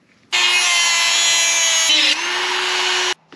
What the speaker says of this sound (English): Got a fully threaded 5/16 bolt. I'm just going to cut it off right here.